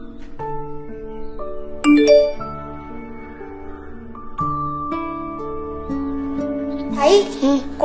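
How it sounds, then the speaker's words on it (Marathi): A phone message notification chime rings out as a bright, melodic ding-dong sequence of tones, loud and clear, with a busier jingle near the end and no talk over it. "आई, कोणाचा तरी मेसेज आलाय बघ."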